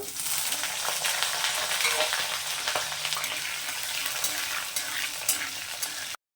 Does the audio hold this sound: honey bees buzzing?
no